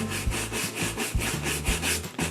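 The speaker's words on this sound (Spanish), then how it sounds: "Y ahora en terminar vamos a volver a cepillarlo para quitarle toda la suciedad que le haya podido quedar" A brush is scrubbed back and forth over a white leather sneaker to clear sanding dust, making quick, steady, rhythmic rasping strokes close up.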